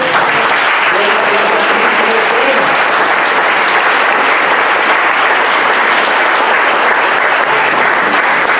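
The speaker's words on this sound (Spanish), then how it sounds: "Denle un aplauso a Cristo" Sustained audience applause fills a church or lecture hall, steady dense clapping from many hands that holds at a constant level throughout with no voices over it.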